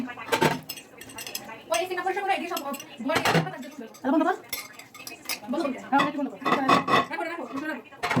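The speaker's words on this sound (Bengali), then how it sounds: "এখন আমি থালবাটিটি সুন্দর করে ধুয়ে ফেলবো" Plates, pots and metal dishware are washed by hand at home, with repeated clinks and clatters in bursts and a voice talking over them.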